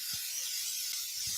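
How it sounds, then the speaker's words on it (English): Cooking spray hisses steadily onto a container being used as a mold for granola, a close, continuous spray lasting about a second and a half with no speech. "and I'm going to spray."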